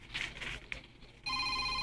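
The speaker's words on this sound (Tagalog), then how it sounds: "Uy, iyang cellphone." A cellphone starts ringing partway through, its steady electronic tone loud and continuous after a brief stretch of quieter room noise.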